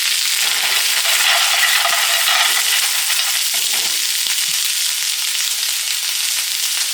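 Clams and garlic sizzle in a pan for linguine with clams, a steady bright crackling hiss with occasional stirring clinks, close and alone without talk.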